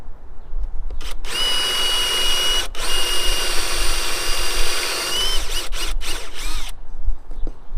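Steady high-pitched whine of a power drill with a 3/8 bit boring through material, running continuously with a few short clicks and knocks.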